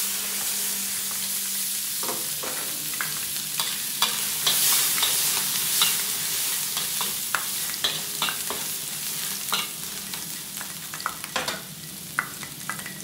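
Garlic sizzles steadily in hot oil in a pan while a utensil scrapes and stirs in irregular clicks, close and continuous, with no voices.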